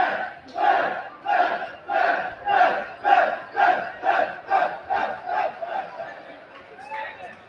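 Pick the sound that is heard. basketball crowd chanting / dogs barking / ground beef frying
basketball crowd chanting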